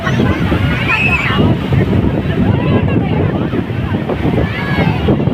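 Large ocean waves roll and break onto the beach with a continuous heavy rushing roar, wind buffeting the microphone and distant voices faintly audible beneath the surf.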